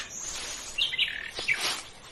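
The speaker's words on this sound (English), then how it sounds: "That looks like a new bird." A bird chirps in a few quick, high tweets, fairly close against a soft background hiss, with no one talking.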